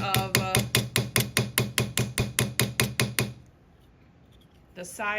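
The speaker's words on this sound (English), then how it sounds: "So here I'm actually now going to use the chasing hammer" A chasing hammer strikes metal being textured by hand, landing about fifteen close, loud, evenly spaced blows in a steady rapid rhythm, followed by a quiet pause and a brief clink at the end.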